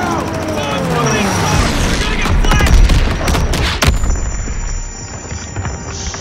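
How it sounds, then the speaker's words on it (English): Shotgun blasts and other gunfire in Call of Duty WW2, a dense run of loud shots with a sharp report near the four-second mark, over busy game noise while a person talks. "Ini shotgun ya."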